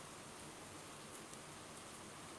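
Steady, dense hiss of heavy rain falling at night, broadband and unbroken, with no voices or other events standing out.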